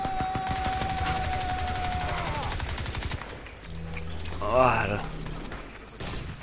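Rapid gunfire and combat effects from the shooter game Crysis 2 fill the first three seconds. Someone commentator talks over it, and quieter game sounds follow.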